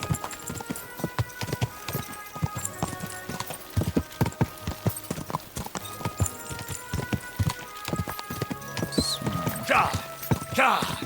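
Rapid rhythmic hoofbeats of a horse galloping in the video game Kingdom Come: Deliverance II, close and steady, with a short whinny near the end.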